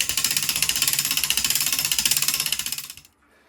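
Rapid, even ratchet clicking from an MSW 5000 clock mainspring winder as a barrel mainspring is wound, a steady loud series of about forty metallic ticks over three seconds that stops abruptly.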